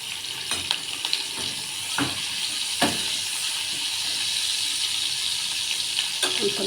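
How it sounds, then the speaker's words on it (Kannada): Green chillies fry in hot oil in a pan, giving a steady close sizzle and hiss with a few faint knocks from stirring. "ಇದು ಒಂದು ಬಾಣಲಿ ಇಟ್ಕೊಂಡು ಒಂದು ಸ್ವಲ್ಪ ಎಣ್ಣೆ ಹಾಕ್ಕೊಂಡು ಕಾದ್ಮೇಲೆ 3 ಹಸಿಮೆಣಸಿನ್ಕಾಯಿ,"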